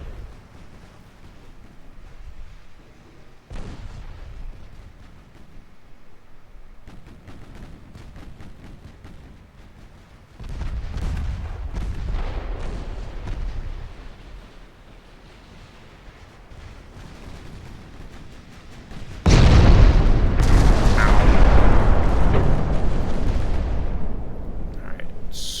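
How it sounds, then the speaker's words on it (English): Incoming 9-inch and 14-inch naval shells explode in the video game Ultimate Admiral Dreadnoughts, with a low rumbling background broken by two heavy blasts, the second louder and rolling on for several seconds. "Here come 9 and 14-inch shells coming in."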